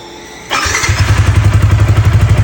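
A motorcycle engine starts with a sharp thump and settles into a loud, close, rhythmic idle pulsing steadily.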